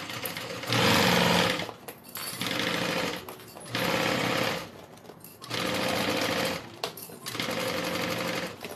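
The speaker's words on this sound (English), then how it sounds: "All right, let's sew this down." A sewing machine stitching wallet material runs in five steady bursts of rapid mechanical whirring, each about a second long with short pauses between, loud and close.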